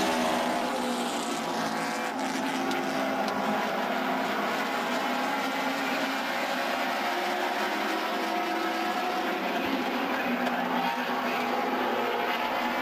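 Race cars roaring around an oval track as the field takes the green flag for a heat race, a dense, continuous engine drone heard at a distance under a commentator's voice.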